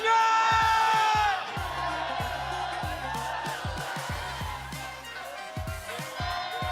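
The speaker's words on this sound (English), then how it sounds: "Bigyan na nga natin ng moment yung crowd." A large arena crowd at an MPL PH esports playoff match cheers and whoops loudly, swelling at first and then settling into sustained cheering over rhythmic thumping drumbeats.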